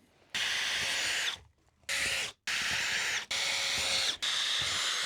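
A power drill drives screws into wooden floor joists during a renovation, with repeated loud high-pitched whirring bursts separated by brief silences, close up.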